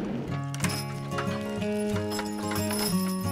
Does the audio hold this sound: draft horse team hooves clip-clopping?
yes